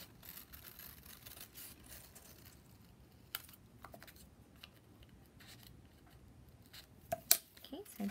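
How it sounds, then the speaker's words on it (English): Scissors snip out a paper circle in short, quiet, scattered cuts close by, with a few crisper clicks of the blades near the end over a faint background. "I'm gonna go ahead and cut this out one time, get the same size, same shape twice."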